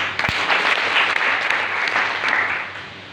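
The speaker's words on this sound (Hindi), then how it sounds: "ताली मार दीजिए।" An audience at a speech event in a hall claps, a dense, even patter of applause that fades slightly near the end.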